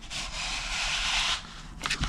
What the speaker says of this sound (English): and then my foam just slots on top.